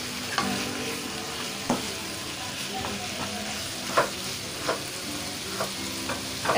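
Mixed vegetables sizzle steadily in a hot pan, with a spatula scraping and clinking against the metal every second or so as they are stirred, close and moderately loud, with no talking.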